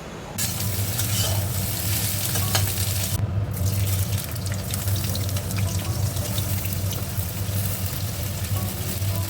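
Rice sizzles and crackles steadily as it fries in a hot pan, with occasional scraping from stirring, continuous and fairly loud throughout.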